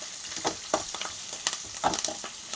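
Okra and tomato frying in a pan for a tomato-okra tamarind stew, a soft steady sizzle broken by several scraping stirs of a spatula, close and moderately quiet with no talk.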